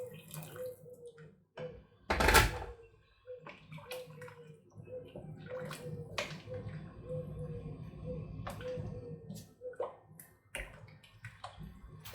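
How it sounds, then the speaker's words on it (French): Water is poured into a pot of meat covered with parsley and coriander for a vegetable couscous: a steady splashing pour runs for several seconds after a sharp knock, with faint clinks and no voices. "Je vais en rajouter un peu d'eau parce que je trouve que j'en ai pas assez."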